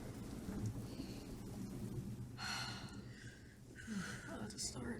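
Steady rainfall with rolling thunder rumbles forms a continuous stormy ambience, with voices talking over it throughout.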